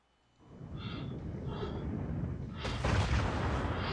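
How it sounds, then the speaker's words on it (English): Shin Godzilla's fire breath attack in the ARK video game, a roaring, rushing blast that swells steadily and turns harsher and fuller partway through, loud and sustained. "that type of, like, fire breath attack"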